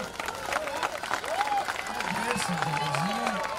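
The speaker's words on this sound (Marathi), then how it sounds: "संजनासाठी एकदा टाळ्या होऊन जाऊ दे" Spectators clap for player Sanjana at a kabaddi match, a continuous patter of applause from the crowd while a commentator's voice talks loudly over it.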